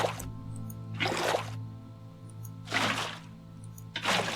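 Water flowing and splashing in a block-building video game, in a few separate bursts of trickling, dripping water over a steady low background hum.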